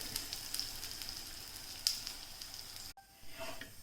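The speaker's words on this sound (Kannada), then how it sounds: "ಈ ಥರ ತುಪ್ಪದಲ್ಲಿ ಬೇಯಿಸಿದರೆ ಚೆನ್ನಾಗಿರ್ತದೆ" Holige flatbread fries in ghee with a faint, steady sizzle that cuts out abruptly near the end before a quieter hiss resumes.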